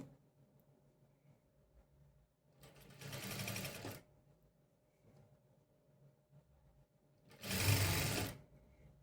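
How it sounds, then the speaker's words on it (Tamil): A sewing machine stitching a pocket onto fabric runs in two short bursts of about a second each, the second louder, with quiet room tone before, between and after. "இப்போ தைக்கிறேன் பாருங்கள்."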